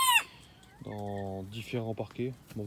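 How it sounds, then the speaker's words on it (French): Roosters on a poultry farm crow in a few loud, drawn-out calls, one cutting off at the start and others following in overlapping bursts, while someone speaks French briefly. "désolé si j'ai les coqs qui chantent en même temps."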